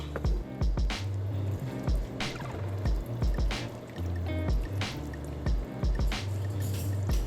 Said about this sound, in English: we're going to give this a nice lazy stir, just so the tomato gets throughout the pot